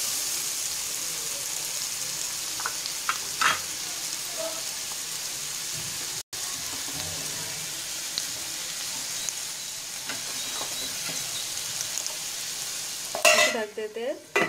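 Black chickpea masala, kala chana, being stir-fried in a pan, a steady low sizzle with occasional spoon scrapes and clinks, and a louder burst of clatter near the end.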